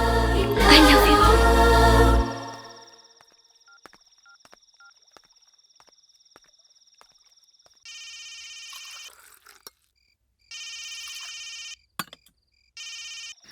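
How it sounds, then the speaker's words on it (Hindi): A telephone rings in short repeated electronic bursts after a loud swell of music fades, the rings spaced out with quiet gaps between them. "फोन तो उठाओ।"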